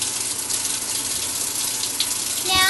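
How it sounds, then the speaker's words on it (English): Water pours into a washing machine from a well supply, a steady close hiss of filling water that swells into a heavier gush in the last moments. "the water starts falling in."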